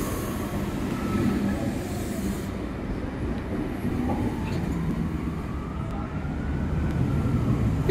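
A V7 electric train set on a Katoomba service moves through Faulconbridge station, with a steady loud rumble of wheels and motors, faint squeals and hiss holding for the whole stretch.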